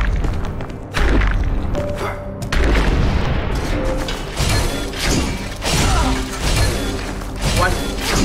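Cannon enemy firing in The Last Faith, a dark side-scrolling action game set in a drowned crypt, with repeated heavy booms and thuds amid clattering mechanisms and crashes under dense game audio.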